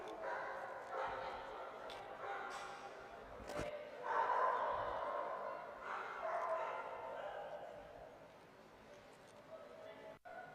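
At a dock diving competition, a puppy gives scattered, fairly faint yips and barks amid crowd noise and a commentator talking, with a brief sharp knock near the end.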